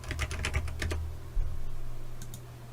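Several quick clicks of keys tapped on a computer keyboard up close, followed by a couple of softer taps against a low background hum.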